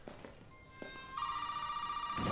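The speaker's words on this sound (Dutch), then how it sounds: "De telefoon gaat hier af." A telephone rings in the horror video game Resident Evil 7, a steady electronic ring tone starting midway and holding, fairly quiet, after a few soft thumps and footsteps.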